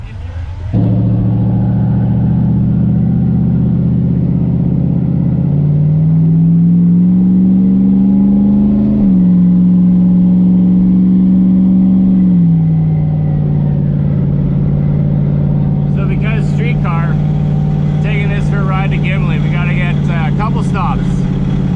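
A turbocharged 5.3 LS V8 with an S475 turbo in a Mustang drag car cruises on a street, a loud steady engine drone that rises and falls in pitch mid-way, with rattly mechanical noise toward the end.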